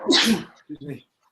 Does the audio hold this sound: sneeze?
yes